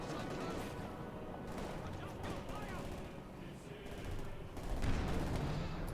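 Soviet anti-tank and field guns in Company of Heroes 2 pound a Panther IV with repeated sharp cannon blasts over scattered battle noise and some crackle. A louder hit lands near the end, and a commentator talks throughout.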